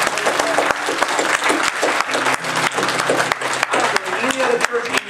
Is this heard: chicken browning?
no